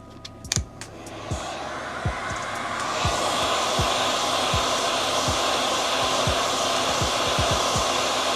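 A hot air blower heats protective film on a sneaker sole, a steady loud whooshing roar that builds after a few soft knocks and holds evenly, close by, while faint rhythmic clicks tick underneath.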